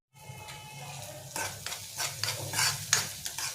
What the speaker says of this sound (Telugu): ఇట్లా ఫ్రై చేసుకోవాలి.